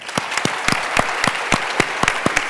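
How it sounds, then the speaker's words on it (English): Steady audience applause at an award ceremony honoring a clean-water charity founder, many hands clapping together in a dense, continuous patter with sharper individual claps popping out, full and close. "Please join me in giving Sarah and Well Aware one more round of applause."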